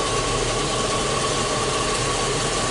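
A 2005 Chevy Tahoe engine runs steadily in first gear with a transmission or electrical fault, giving a continuous mid-pitched hum and vibration with a faint whine and no talk.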